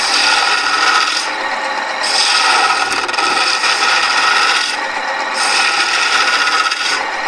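A skew chisel, its point in use and in need of sharpening, cuts wood on a lathe while a sphere box is being turned: a continuous close rasping scrape that swells and dips in a few uneven passes, with no talk.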